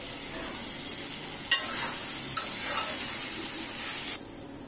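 Kochu shak (taro leaves) cooking with a hilsa fish head in a pan, giving a steady sizzling hiss with a few scraping stirs, close and continuous, then dropping quieter at the end.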